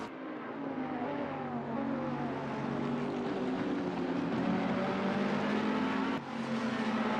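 Race car in a sim racing game at the Kyalami circuit, coming through the final corner at night, engine note rising and shifting as it accelerates past, with a brief gear-change dip near the end and no talk.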